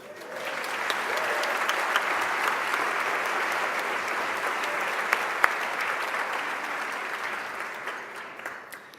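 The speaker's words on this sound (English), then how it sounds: "let's have a celebratory round of applause for all of us" An audience at a live event applauds, a dense, sustained clapping that swells in and holds strongly before tapering slightly near the end.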